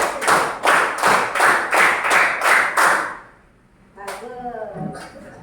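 A group claps in unison for a classroom clapping game, seven loud, evenly spaced claps in a steady rhythm, followed by a pause and a brief spoken voice.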